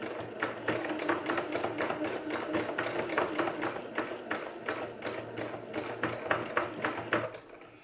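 A sewing machine stitches felt appliqué pieces for a felt bag, its needle chattering in a steady rapid rhythm with regular bursts as the fabric is guided, close and continuous throughout with no talking.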